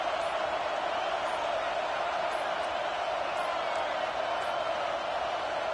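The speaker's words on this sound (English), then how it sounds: "Listen to this crowd just shaking the girders of this place," A dense, steady roar from a stadium crowd at a football game, loud and unbroken throughout, cheering to rally the home defense.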